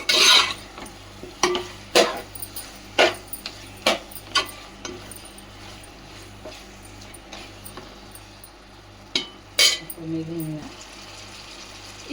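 Gongura chicken curry being stirred in a pan, scattered sharp clinks and scrapes of a spoon against the pan over a low steady background hum, with occasional louder knocks.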